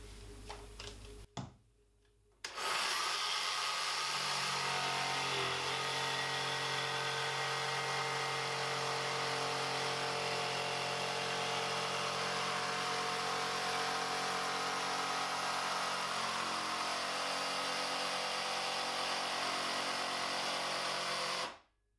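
After a brief quiet start and a few clicks, a jigsaw starts and cuts slow curves in wood continuously at a loud, steady buzzing pitch, stopping abruptly at the end.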